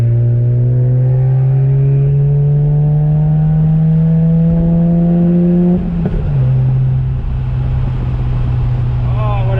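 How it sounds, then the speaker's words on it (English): A car accelerating hard at full throttle, its engine note climbing steadily and loudly for about six seconds before an upshift and a renewed climb. "let's open her up over here too, get some of the carbon out of it"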